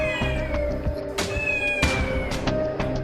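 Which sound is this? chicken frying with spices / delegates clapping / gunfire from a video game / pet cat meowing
pet cat meowing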